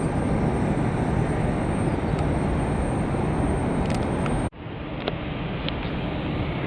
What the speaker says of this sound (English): Another private jet landing on runway 28 right. This might be a Citation X, Citation 10.